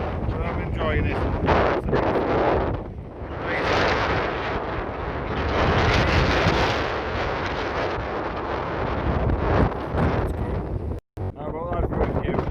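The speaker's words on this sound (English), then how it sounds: "It's windy, but I'm enjoying it." Wind blows hard through Harwood Forest woodland in Northumberland, buffeting the microphone in loud, uneven gusts that rise and fall, with a brief cut near the end.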